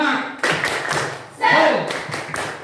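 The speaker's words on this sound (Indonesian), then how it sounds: "Tepuk semangat." A school class doing the 'tepuk semangat' clapping chant: several sharp, close bursts of group clapping in a loose rhythm, mixed with chanting voices.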